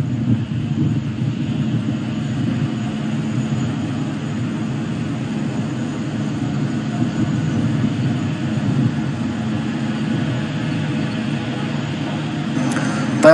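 Kawasaki C-2 military transport aircraft with General Electric engines flying a display at the Dubai Airshow, a steady, loud low jet engine roar sustained throughout with a faint rise at the end.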